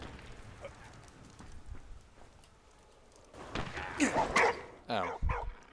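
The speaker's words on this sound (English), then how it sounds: "Dog's barking at something, I don't know what..." A dog in the video game Valiant Hearts barks several times in short bursts over game sounds, with quieter background noise before the barks.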